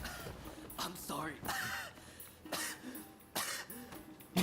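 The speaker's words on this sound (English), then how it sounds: "What are you coughing for?" A character coughs in Rise of the Ronin, several harsh hacking bursts spaced apart with rough throat sounds between them, heard among quiet voices.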